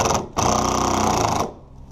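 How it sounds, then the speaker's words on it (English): A power drill drives screws into a piece of scrap wood used as a form for repairing a rotted corner: one steady motor whir running for about a second, starting and stopping abruptly, loud and close with no talking. "Now we'll go ahead and screw this underneath."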